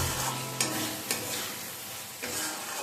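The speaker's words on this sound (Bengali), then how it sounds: "এবার এর মধ্যে আমি টু টেবিল স্পুন ফ্যাটানো টক দই অ্যাড করে দিচ্ছি ভালোভাবে মিশিয়ে নিলাম" Mutton being stirred in a pan with two tablespoons of beaten sour yogurt for a Bengali mete chochchori, giving a steady close sizzle with a few sharp scraping strokes of a spoon, no talking.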